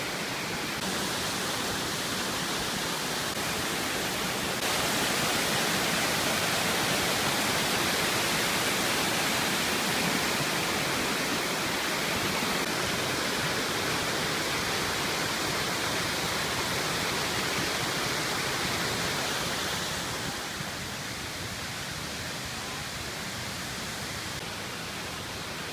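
A rainforest waterfall in the Daintree, heard as a loud, constant roar of rushing water that surrounds the listener, with no voices.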